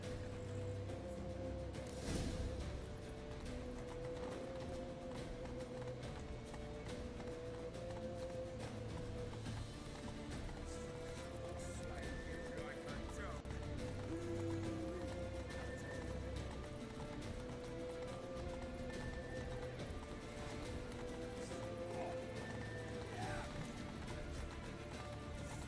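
Horse hooves clip-clopping in a steady running rhythm in the Witcher 3 video game, continuous under game ambience and someone talking, with a brief whinny-like sound.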